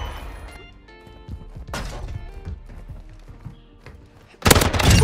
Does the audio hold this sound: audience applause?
no